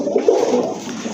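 A pigeon coos once in a soft, low, throaty burble, close and fairly clear against a quiet background.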